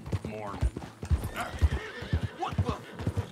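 In the Red Dead Redemption 2 video game, a horse's hooves clop in a quick rhythmic series close by while the horse lets out a whinny partway through, with a voice talking over it.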